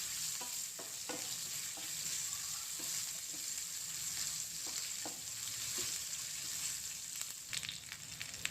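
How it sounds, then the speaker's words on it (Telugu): Small onions fry to brown for jeera rasam, hissing in a steady sizzle while a spoon scrapes and stirs the pan at irregular moments, close and clear. "ఉల్లిగడ్డలు బ్రౌన్గా బాగా వేగనివ్వాలి రసంలోకి."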